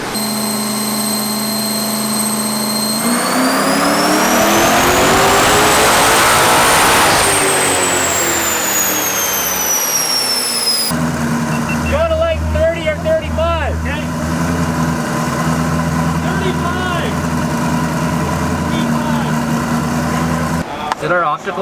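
A twin-turbo-style eight-turbo Ford Mustang engine on a dyno, revving loud and close as pitch sweeps up then falls back, followed by a rough idle with burbling pulses while people talk over it.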